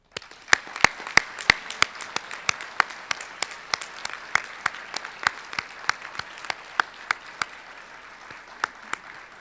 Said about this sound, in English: Please give them a hand.